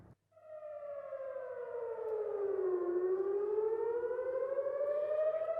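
Red alert air raid sirens in Israel near the Dimona nuclear reactor, a single sustained wailing tone that falls and then rises again, steady and fairly distant, with no voices.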